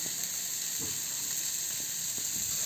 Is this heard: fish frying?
yes